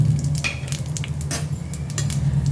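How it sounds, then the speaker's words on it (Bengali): Close, steady sizzling of panch phoron, bay leaves and dried red chillies frying in mustard oil in a kadai, with a few faint scrapes and clinks of a utensil against the pan. "আমি কড়াইয়ে সর্ষের তেল দিয়ে দিয়েছি। এবারে আমি একটু ফোড়ন দেব"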